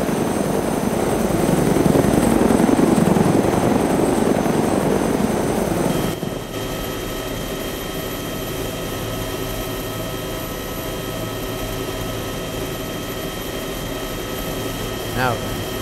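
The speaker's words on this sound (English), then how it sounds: "mind if I just took this chopper?" A helicopter flies in the DayZ game with a loud, steady rotor and engine roar. Partway through it shifts to a quieter, more even hum. Someone talks over it.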